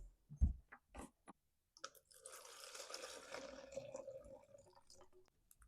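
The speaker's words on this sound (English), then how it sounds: "Let's dump the fuel out of this thing and take a look at it," Old, stale fuel poured out of a Stihl FS40C string trimmer's tank, a steady trickling splash lasting several seconds after a few short handling knocks and clicks, close and fairly quiet.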